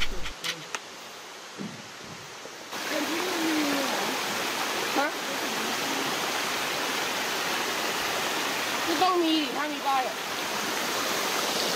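A white, sediment-laden waterfall in Chiang Mai gives off a steady, close rushing roar that fills the whole stretch, with a few brief faint sounds layered over it.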